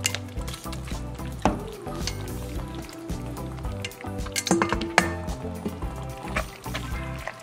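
Cooked noodles being mixed into a thick, cheesy macaroni and cheese sauce: continuous wet squelching and sticky squishing with irregular thick slurps, close and fairly loud, no talk.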